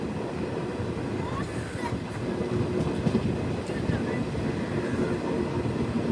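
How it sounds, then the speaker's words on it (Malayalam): The Jan Shatabdi Express pulls into Alappuzha railway station with a continuous heavy rumble and faint rhythmic clatter of wheels on rails, steady and fairly close. "8:05 ട്രെയിൻ ഇപ്പോൾ ആലപ്പുഴ റെയിൽവേ സ്റ്റേഷനിലേക്ക് ഇതാ എത്തുകയാണ്."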